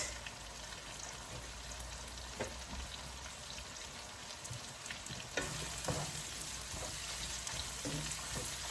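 Squid frying over low heat in a pan with softened onion and tomato gives a steady, soft sizzle throughout, close but fairly quiet, with occasional faint stirring clicks and no talking.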